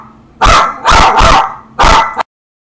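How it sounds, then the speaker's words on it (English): A dog barks loudly and close by, three or four sharp barks in quick succession with a brief pause before the last, then abrupt silence. "Just a crazy dog."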